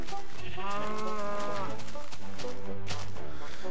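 A cow moos in Minecraft, with a long low call heard over game sounds and background noise.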